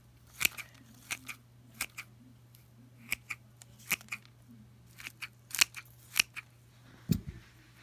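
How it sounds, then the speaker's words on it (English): Scissors snip dry Catasetum orchid roots during a repotting, a run of sharp, crisp clicks spaced irregularly over several seconds, close and fairly quiet over a low steady hum. "Clean the scissors and cut out the dry roots."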